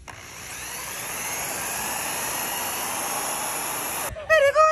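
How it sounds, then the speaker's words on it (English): A Meguiar's Powerball polishing tool spins against a kei van's headlight, holding a steady close, high motor whine for about four seconds before cutting off abruptly as a voice briefly speaks. "Maguire's ultimate in a Powerball going to work"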